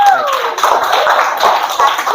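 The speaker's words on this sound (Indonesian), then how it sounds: "Ya, tepuk tangan untuk kita semua." An audience clapping in a classroom-like setting, a dense burst of hand claps that follows a brief voice and lasts about two seconds.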